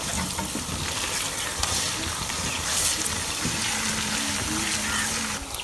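A steady sizzle of green chili, ginger and garlic paste frying, with occasional stirring scrapes and a faint voice in the background.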